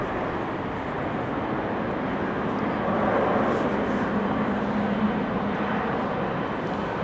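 Air Europa airliner moving on the ground at Amsterdam Schiphol Airport on a windy, rainy day, heard from parking area P3 as a steady, moderately distant broadband engine roar that swells slightly midway.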